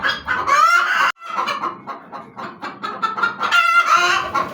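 Laying hens cluck and squawk loudly and insistently, competing for a nesting spot in a flock that includes Golden Misri and Aseel chickens; the calls come in close, overlapping bursts with a short pause near the start.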